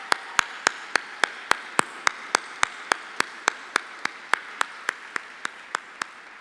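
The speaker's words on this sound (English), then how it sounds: "Can we just get one more round of applause for that woman?" A single steady, evenly spaced clap at an awards ceremony, about twenty sharp hand claps in a regular rhythm over a quiet room murmur, with no talk.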